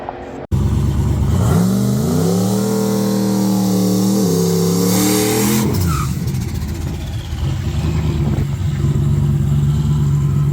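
A street-driven turbo Fox Body car makes a drag racing pass, its engine climbing loudly through the gears with pitch sweeps and shift breaks, then easing off into a lower steady drone, with no voices.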